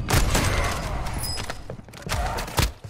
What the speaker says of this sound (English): Oh, he's got a shotgun.